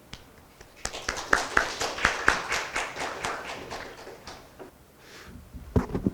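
Applause for a presenter at a Korea–Mekong business exchange session, sparse and uneven clapping from a small audience that swells briefly, fades, then returns with a few sharp claps at the end.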